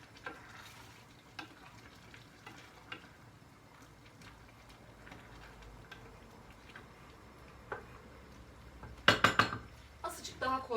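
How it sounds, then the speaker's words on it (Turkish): A metal lid clatters onto a cooking pot with a few sharp clanks near the end, after quiet kitchen background with faint clicks. "Kapağını kapatıp pişmeye bırakıyorum."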